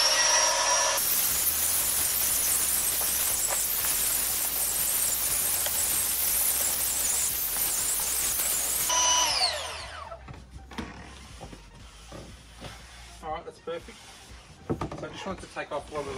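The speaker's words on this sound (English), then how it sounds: "let's give those boards a bit of a light sand" A power sander runs loud and continuous with a high whine over patched wooden boards in a small workshop, then cuts out and winds down near the middle, followed by quieter knocks and handling sounds while a person speaks.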